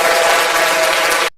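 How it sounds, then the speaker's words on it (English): Audience applause at a football talk show: a dense, steady burst of clapping that lasts just over a second and then cuts off abruptly. "round of applause"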